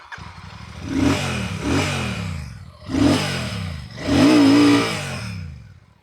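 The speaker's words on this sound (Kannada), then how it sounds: "ನಾನು ನಿಮಗೆ ತೋರಿಸ್ತೀನಿ ಬೈಕ್ನ ಸೌಂಡ್ ಹೇಗಿದೆ ಅಂತ ಜಸ್ಟ್ ಆನ್ ಮಾಡಿ" A motorcycle engine revs four times in quick throttle blips, each rising and falling over a deep idling thump, loud and close with no talking.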